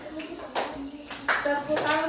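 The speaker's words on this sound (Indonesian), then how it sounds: "Oke, tepuk tangan untuk" Children in a classroom lesson clap their hands in a few short, loud bursts, mixed with children's voices.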